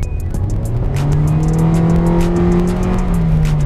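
A Hyundai Stargazer accelerates with a loud, rising engine drone heard from inside, the pitch climbing steadily then levelling off over road noise, with a faint rhythmic ticking on top.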